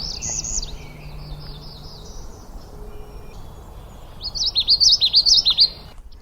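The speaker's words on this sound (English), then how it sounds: "that's a good common yellowthroat" Common yellowthroat singing its rolling witchety song in Maine woods, a clear close phrase of repeated notes, with fainter birdsong earlier in the clip.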